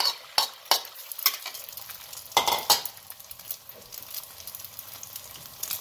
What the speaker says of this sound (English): We're gonna scramble the egg first.